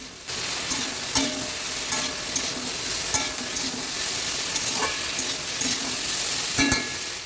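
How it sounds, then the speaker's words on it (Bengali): Mixed vegetables fry with spices in a pan under a steady close sizzle, while a spoon scrapes and stirs at irregular intervals. No voices are heard. "এখন মশলার সাথে সবজিগুলোকে ভালোভাবে ভাজতে থাকবো।"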